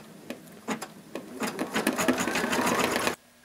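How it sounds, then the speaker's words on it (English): An embroidery machine stitches a birthday greeting onto a paper card, its needle tapping in quick sparse strokes that speed up into a steady dense mechanical chatter before stopping abruptly. "And start to stitch onto your card."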